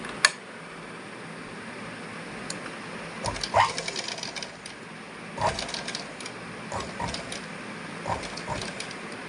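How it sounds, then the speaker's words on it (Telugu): A sewing machine stitching slowly around a circle shape, intermittent short bursts of needle clatter with pauses between runs, close and moderately quiet. "సర్కిల్ షేప్లో మనం స్టిచ్ చేసుకోవాలి."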